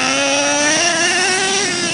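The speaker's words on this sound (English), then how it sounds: "Your tires are sounding nice." A Revo RC car's engine and tires whine steadily at high pitch, close and loud, with a sustained rising drone running throughout.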